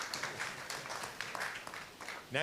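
Steady applause from an audience fills the room, with a voice starting to speak near the end.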